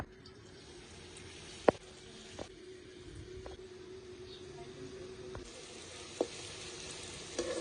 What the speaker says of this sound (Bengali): ওই বড়াগুলো এবার এক এক করে ভেজে নেবো